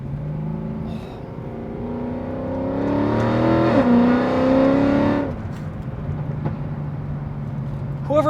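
A Mercedes CLK63 Black Series engine roars steadily, swelling into a loud rising rev midway before settling back to a rough, constant idle.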